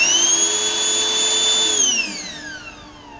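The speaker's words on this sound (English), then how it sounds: "Let's try the vacuum." A vacuum motor on a homemade flowbench runs with a steady high whine, then spins down and fades in pitch as it shuts off.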